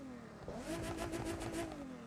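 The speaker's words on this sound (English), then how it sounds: "Sounds like a proper inline engine" A car engine in the video game The Crew 2 revs up and holds a smooth, throaty inline-engine drone with rising pitch, fairly quiet and steady with no talking.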